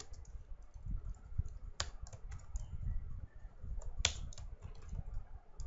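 Computer keys clack as PHP code is typed, a faint, irregular run of light taps with a few sharper, louder clicks scattered between them and no voices.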